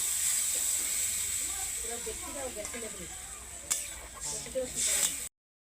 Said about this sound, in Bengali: টক ফুটে গেছে, আমি এই সময় মাছগুলো দিয়ে দেবো।